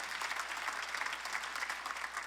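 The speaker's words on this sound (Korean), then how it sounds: "박수를 치며 하나님께 올려주세요" Church congregation clapping during a Sunday worship service, a steady dense wash of applause sustained throughout at moderate level with no talk over it.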